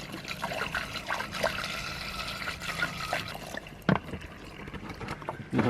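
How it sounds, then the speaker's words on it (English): Water trickles and splashes as it is poured into a sailboat's water tanks at anchor, an uneven, gurgling flow with occasional louder knocks and splashes, close by. "watched me empty like 150 litres of water into the tanks"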